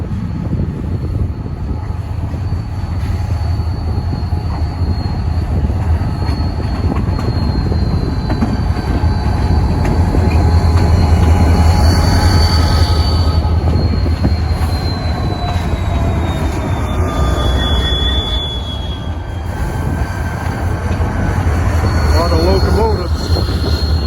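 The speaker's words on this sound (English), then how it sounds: "It's a CN train coming and crossing CP Rail's main line." CN freight train crossing the CP Rail main line diamond in Thunder Bay's intercity area, wheels squealing with high drawn-out screeches over a steady loud rumble of rolling railcars, continuous throughout.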